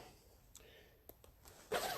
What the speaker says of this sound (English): I gotta zip up my jacket